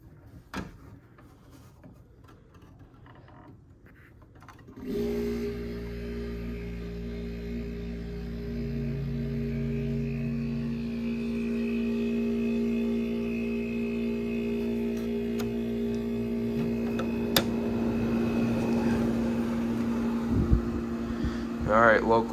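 A 1970 Gibson Air Sweep window air conditioner switches on with a sudden jump into a steady compressor hum and fan whir on low cool, holding constant and close with a faint mechanical drone underneath.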